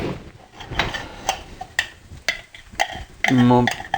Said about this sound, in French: Je vais faire revenir ça aussi quelques instants avant de rajouter la viande